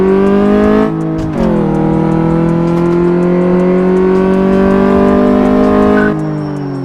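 Car in Car Mechanic Simulator 2014 accelerating fast, its loud engine whine climbing in pitch through a gear change and then easing off near the end.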